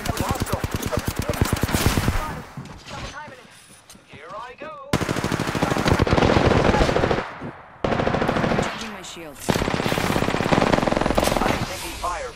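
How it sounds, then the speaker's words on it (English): Gunfire in the Apex Legends video game: loud, close automatic bursts of rapid shots, broken by brief pauses, with a player talking in between. "I am taking fire, friends."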